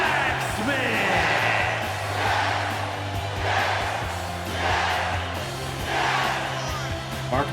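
A video game wrestling arena crowd in WWE 2K23 swells in repeated waves of cheering and whooping for a wrestler's entrance, loud and sustained over a low droning music bed.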